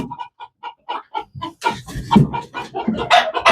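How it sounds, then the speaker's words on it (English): Farmyard rooster clucking at a hen, a run of short evenly spaced clucks building into louder, rapid squawking and flustered bird calls, close and with no talking. "That was a rooster being an idiot with a hen."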